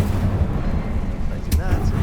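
An Incendio fire spell cast in the Hogwarts Legacy game, a short rumbling whoosh of flame with a sharp burst near the end, under a spoken voice.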